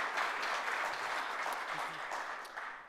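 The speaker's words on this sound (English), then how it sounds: "Please join me in a round of applause for the tireless efforts of all these great individuals and organizations." An audience applauds at a community debate held at a Jamatkhana, steady dense clapping at moderate volume that tapers slightly toward the end.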